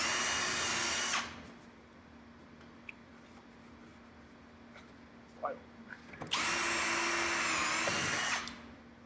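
Power drill boring a hole through a vehicle panel while fitting a turn signal kit: a brief high whine, a quiet stretch with small clicks, then a second, longer close-up drilling burst.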